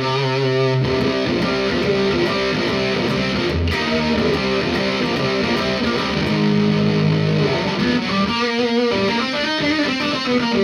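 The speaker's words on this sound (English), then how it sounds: "this is, again, a pretty wild, gnarly, kind of gated fuzz sound" Gated fuzz from a JHS Kilt pedal on its forbidden tone setting drives an electric guitar, heard alone, loud and sustained. The chords sound gnarly and saturated, choppy gated stops break them up, and a brief pause comes near the end.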